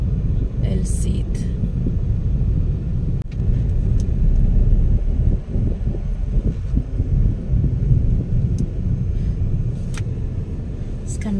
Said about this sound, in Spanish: Viene mucho tráfico aquí.